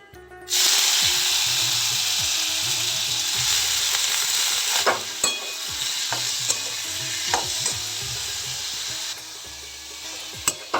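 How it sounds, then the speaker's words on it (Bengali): Potatoes fry in oil with cumin and asafoetida, a loud sizzle bursting in after a quiet start, then continuing with scattered scraping stirs and clicks of a spoon against the pan, close with no talking. "এবার আলুগুলো দিয়ে দেবো"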